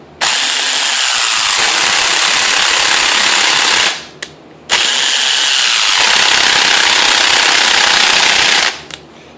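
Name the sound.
DeWalt impact gun running and ratcheting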